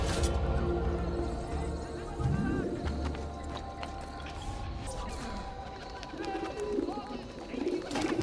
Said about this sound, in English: And it's back to the pigeon coop.